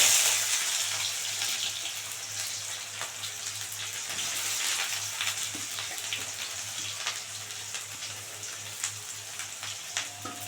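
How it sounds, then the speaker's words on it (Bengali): Chopped onion with cumin seeds and bay leaves frying in oil, a steady bright crackle with frequent small pops, fairly close and continuous over a low background hum. "পেঁয়াজটা একটু ভালো করে ভাজা ভাজা হোক"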